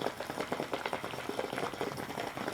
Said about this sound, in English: The water's boiling at the bottom.